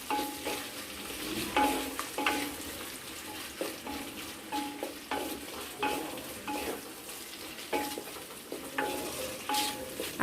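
Chicken browning in a clay pan, soft steady sizzle broken by a regular series of scraping, clinking stirs of a utensil against the pan, close and fairly quiet, with no talking.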